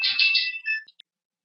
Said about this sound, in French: téléphone qui s'est mis à sonner, je l'ai mis sur vibreur